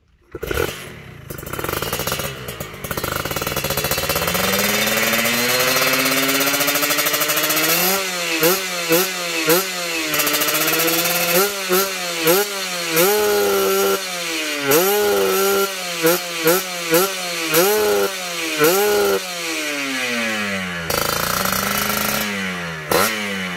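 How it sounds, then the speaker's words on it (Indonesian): A Kawasaki Ninja RR two-stroke motorcycle with a TM32 carburetor, 63mm Kawahara block and modified head, cold in the morning, is revved hard, with a long sustained rev followed by a series of sharp, rapid blips, loud and close. "kita coba blayer untuk motornya"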